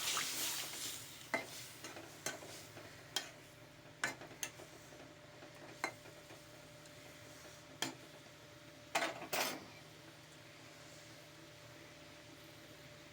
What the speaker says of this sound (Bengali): এবার আমি জলটা দেবো